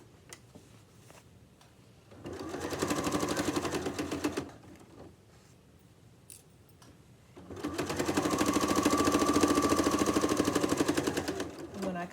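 A sewing machine stitches a tote bag pocket in two bursts of rapid, close mechanical whirring, the second longer, separated by a quiet pause with small clicks and handling noises.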